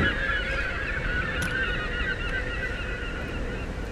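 A bird squawks with repeated harsh, honking calls in the Tomb Raider reboot video game, steady and fairly close over a dense wash of in-game ambience.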